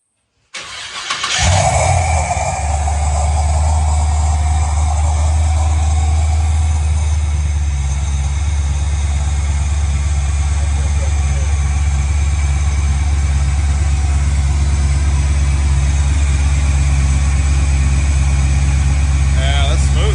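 A 1965 Chevrolet Nova engine fires up and settles into a steady, loud idle, a deep continuous rumble that carries on evenly without pauses, close by.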